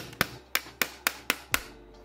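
Hammer blows drive a part down into a pistol build, six sharp, fairly even metallic knocks spaced about a quarter second apart, close and moderately loud with no talk.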